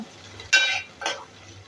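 Four or five garlic cloves hit a pan of chopped onion over low heat, giving two short, close bursts of sizzle and stirring over a quiet background.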